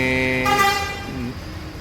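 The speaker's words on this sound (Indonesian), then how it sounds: "Nah ini lagi dicek semua klakson" Horns on a Scania K4 tronton bus are tested at a bus pool, giving a loud, sustained, tonal honk that shifts pitch midway, then fades into a brief softer blare.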